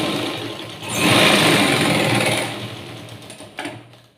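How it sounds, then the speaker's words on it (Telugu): Sewing machine stitching a few stitches, starting up with a rapid, loud mechanical whirr and needle clatter that holds steady for about two seconds, then slows and stops with a couple of clunks. "దాని పక్కన ఒకటి రెండు కుట్లు వేసుకున్నాము"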